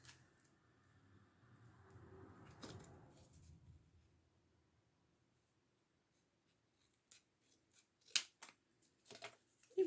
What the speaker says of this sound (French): Et je vais découper.